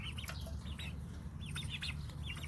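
Poultry on a farm with turkeys among them, heard as repeated clucking calls in short bursts over a steady low background.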